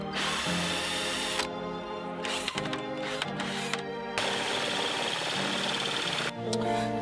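A power drill bores holes into an aeroponics tower, whirring loudly with several short pauses and restarts as the bit bites through the material at close range.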